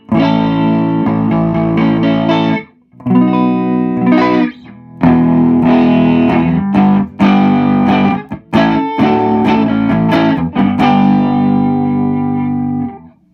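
Overdriven electric guitar, a Telecaster plugged straight into a 1965 Deluxe Reverb tube amp with no reverb, loud and gritty, played in chunky chords and short bursts with brief pauses between phrases.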